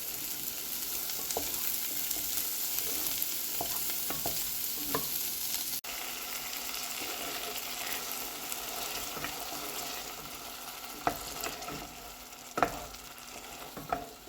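Leftover passata pasta sauce cooks in a pan, giving a steady close sizzle and frying hiss with intermittent stirring scrapes and clinks. Pasta boils in a separate pot nearby.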